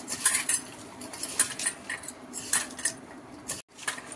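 Salted, turmeric-dusted sliced bitter gourd being mixed and squeezed by hand in a bowl, with irregular light clinks and wet rustles against the bowl, close and moderately quiet, no talking.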